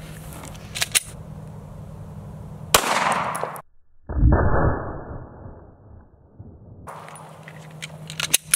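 A gunshot fired at a belt buckle outdoors, with a sharp loud crack and a metallic impact, set between quieter stretches of background hum and handling noises.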